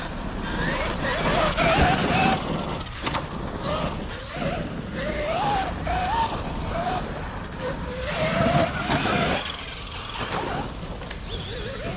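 A Traxxas Widemaxx RC car driving and making a tight left turn outdoors, a steady whining motor and rushing rolling noise with pitch rising and falling, close and continuous, with someone speaking over it.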